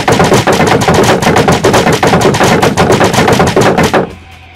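Rapid gunfire in the video game Minecraft, a loud, continuous string of sharp shots at a fast, even rhythm for about four seconds, then it cuts off abruptly into quiet.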